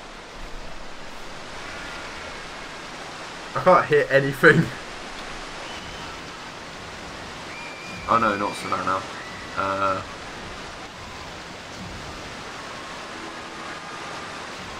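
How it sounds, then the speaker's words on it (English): Steady, even wash of water ambience in the video game Rollercoaster Tycoon 3, continuous and fairly quiet, with a person talking briefly over it a few times. "All you can hear is water, and that's it."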